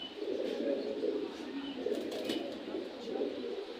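Pigeons coo and call at an outdoor pigeon market in Bangladesh as a male pigeon is released, a steady murmur of birds and crowd around it with no clear wing flaps standing out.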